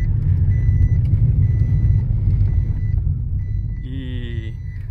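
JAC iEV40 electric SUV pulling away, heard as a loud, steady low rumble of road and cabin noise with a faint electronic tone and a short warning chime near the end.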